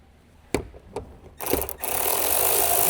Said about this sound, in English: Use a small size 7mm deep socket with a small size electric impact wrench.